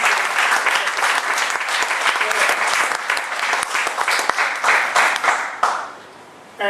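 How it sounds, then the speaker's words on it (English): Applause from an event audience thanking the organisers, a dense steady clatter of many hands that holds for about five and a half seconds, then fades quickly and tails off near the end. "let's first give them a big round of applause"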